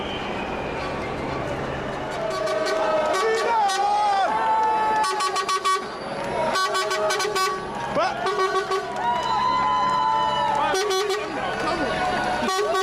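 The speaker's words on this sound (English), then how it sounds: "it's a very peaceful crowd right now" A large peaceful crowd of marchers fills the street with a continuous loud murmur, with repeated car and air horns tooting over it and voices talking nearby.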